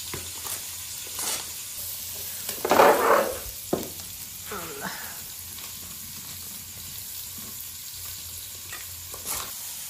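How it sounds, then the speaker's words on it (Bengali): Onions and green chilies fry in a pan over a clay stove with a continuous sizzle, broken by scraping stirs and a louder burst of crackling near the start, with faint voices in the background. "এখন এটাকে সুন্দর করে ভাজা ভাজা করে নিবা"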